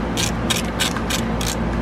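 Ratchet tightening bolts on EGR delete plates on a 2017 6.7L Cummins diesel engine, a few short bursts of clicking under a steady low hum.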